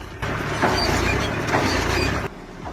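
A Massey Ferguson 265 tractor straining against a stubborn tree root, its engine and clutch holding a loud, rough, steady drone for about two seconds before it drops away abruptly.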